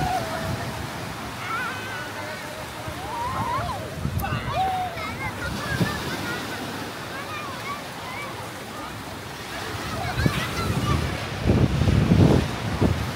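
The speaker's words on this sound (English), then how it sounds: "Very windy now." Strong wind buffets the microphone on Boracay beach in the Philippines, a loud continuous roar with surf in the background and people talking intermittently, gusting harder toward the end.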